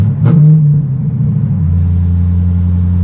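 Corvette C6 engine in a car cruising around 44 mph, a brief rev on the upshift before it settles into a steady low, loud rumble, heard from inside the cabin.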